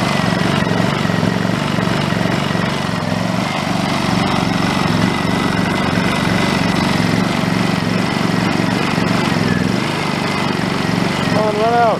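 A Honda EU2200i generator engine runs continuously at close range, a steady droning hum that holds level throughout with occasional voices beneath it.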